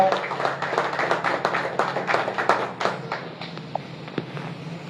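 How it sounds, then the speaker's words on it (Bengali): Crowd at a trophy ceremony for a local football cup claps loudly and briskly, the applause thinning toward the end while a few voices carry underneath. "একটু জোরে করতালি।"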